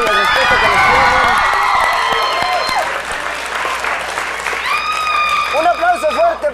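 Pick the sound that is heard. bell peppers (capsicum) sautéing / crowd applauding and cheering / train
crowd applauding and cheering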